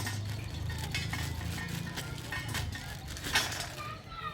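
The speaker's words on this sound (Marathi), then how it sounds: "आता आपल्याला खोबरं भाजायचंय" Half a kilo of grated coconut roasting in a pan over a wood-fired clay stove: soft, continuous scraping and stirring with occasional metallic clinks, fairly quiet and steady, with a faint sizzle underneath.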